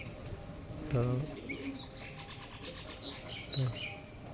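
Kalanka pigeons, a male and female, give two short low cooing bursts close by, with soft chirps and background chatter in between.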